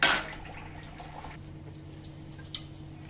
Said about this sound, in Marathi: त्याच्यामध्येच पाणी टाकलंय आणि ते मी रश्श्यामध्ये टाकते